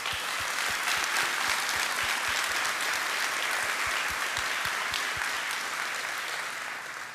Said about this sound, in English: Let's give a huge round of applause for our phenomenal training staff.